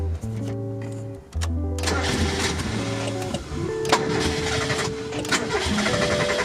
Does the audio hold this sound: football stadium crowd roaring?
no